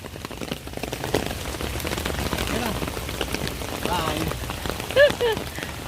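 Steady rain patters on a surface at a golf course throughout, with faint voices talking underneath and a brief whistle-like sound near the end.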